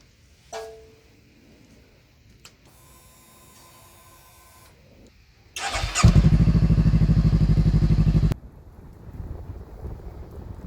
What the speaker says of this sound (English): I really love riding that motorcycle.